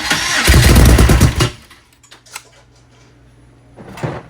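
An engine cranks and fires up loudly after a fuel pump repair, roaring for about a second before cutting out, followed by a few faint clunks and a brief rattle near the end.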